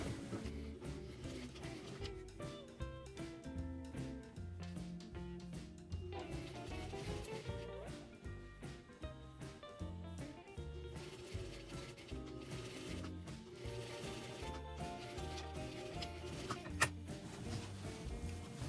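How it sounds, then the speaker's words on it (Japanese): A sewing machine topstitches a fabric face mask about 1 mm from the pressed edge, its steady mechanical whir running continuously under background music. "こちらに倒したままで1ミリぐらいのところをステッチしていきます。"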